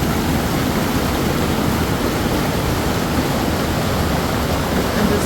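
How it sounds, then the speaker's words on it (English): Reid Waterfall in Skagway, Alaska, heard up close as a steady, loud, broadband rush of falling water that holds constant without a break. "and just listen to this waterfall."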